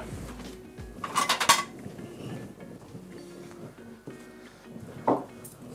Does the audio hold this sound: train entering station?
no